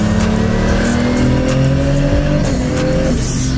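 A 2000 hp Nissan Patrol with a sequential gearbox accelerates hard, its engine roaring loud and close with rising revs, sharp shifts between gears and a brief tire squeal, no voices.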